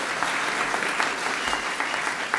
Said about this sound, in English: can we just give this panel a big round of applause?